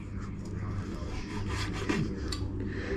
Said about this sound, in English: once you've cleaned the squid, what you want to do is just trim this end piece off